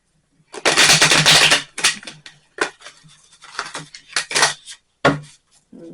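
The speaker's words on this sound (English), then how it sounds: "Make it easier to shuffle." Stiff tarot cards are shuffled by hand in several quick riffling bursts, crisp papery rattles close to the ear with short pauses between them.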